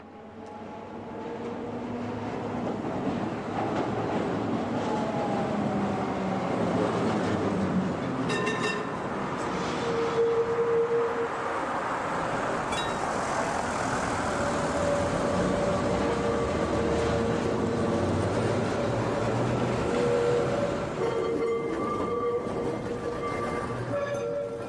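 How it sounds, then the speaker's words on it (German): A G4 articulated tram with a suspended middle section runs through an East German town, a steady rolling rumble with metallic squeals and tonal whines rising and fading over about twenty-five seconds, with no talk. "Auch in Nordhausen sind G4-Gelenkwagen mit hängendem Mittelteil unterwegs gewesen."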